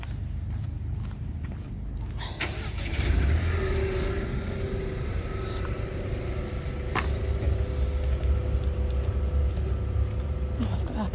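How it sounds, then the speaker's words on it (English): A car drives up a road in Invergordon, a steady engine and tyre rumble that grows louder and nearer as it passes, with faint footsteps on the pavement beneath it. "there's a car going to come up in a minute"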